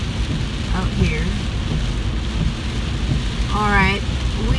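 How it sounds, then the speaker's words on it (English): Heavy rain pours steadily outdoors, a dense constant wash of noise with faint low rumbles, while a voice and a few other brief sounds come through over it. "see how badly it's raining"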